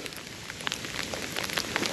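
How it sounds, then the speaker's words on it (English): Hail falls steadily outdoors on a fishing trip in bad weather, a dense continuous patter of sharp ticks and taps with scattered louder impacts, close and constant throughout. "That hail's coming back."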